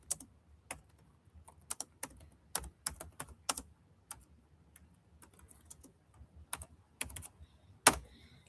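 Fingers tap on a computer keyboard in quiet, irregular bursts of sharp clicks, with pauses between keystroke clusters and one louder key strike near the end, heard close in a hushed room.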